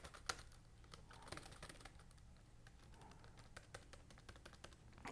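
Keys tap steadily on a wireless computer keyboard with a slightly mechanical feel, a quick irregular patter of close, faint clicks.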